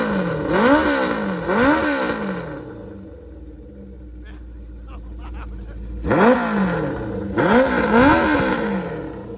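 A Honda CB550 motorcycle's four-into-one exhaust without a baffle revs repeatedly in sharp, loud bursts, settles to a rumbling idle, then revs hard again several times.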